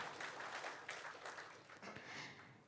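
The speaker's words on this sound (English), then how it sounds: "Let's have a huge round of applause for her." Audience applause for a speaker at a finance conference, a broad wash of clapping that stays fairly even for a few seconds with slight swells and no voices over it.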